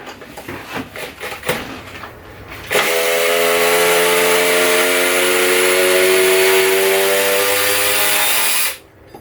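A DeWalt drill driver runs steadily at full speed for about six seconds, backing screws out of wood with a loud, sustained whine, preceded by a few clicks and handling knocks.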